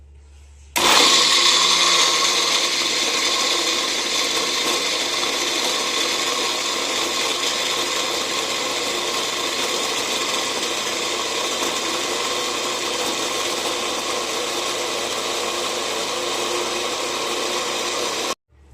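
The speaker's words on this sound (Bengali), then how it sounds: "মিক্সি হয়ে যাবে।" Mixer grinder blending juice, a loud steady whir with a high motor whine running continuously for about seventeen seconds before cutting off.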